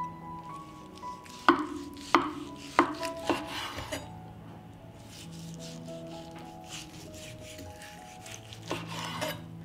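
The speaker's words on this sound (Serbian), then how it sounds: "Dok čekam da voda proključa, iseći ću jednu dimljenu butkicu." A knife chops through a smoked chicken leg on a board, giving about five sharp, close thuds in the first four seconds, then a couple more near the end, with kitchen rustle and no talking.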